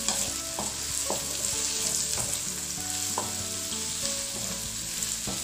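Tomatoes sautéing in a pan, a steady close sizzle with faint stirring scrapes and utensil taps running throughout, no voices.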